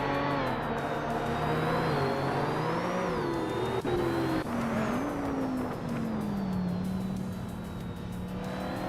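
Race cars battle on track in a racing video game, engines droning and shifting pitch continuously as they run nose to tail, with faint tire squeal and a steady, loud mix of several motors throughout.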